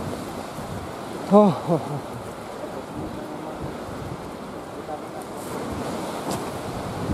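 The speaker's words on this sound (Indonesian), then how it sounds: "Lihat anginnya yang begitu kuat." Strong wind on Mount Lawu roars steadily and loudly across the microphone, with one brief voiced exclamation near the start.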